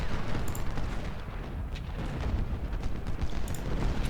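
Dense, rumbling battle noise from the video game Ultimate General: Civil War, with scattered booms of cannon fire blending into a continuous roar, loud and without pauses.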